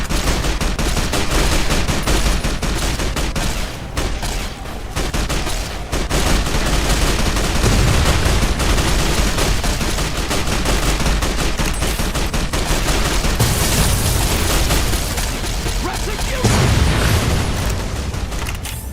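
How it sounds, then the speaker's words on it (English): Tri-beam laser rifle fire in Fallout New Vegas during the battle for Hoover Dam, a dense, continuous barrage of loud booming shots and bursts layered with explosions and constant battle din, with no break for the whole stretch. "Let's go with tri-beam laser rifle."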